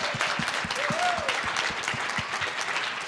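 Live audience applauding after performers share their music, a dense, steady wash of clapping hands sustained at full strength throughout, with a faint voice briefly audible underneath.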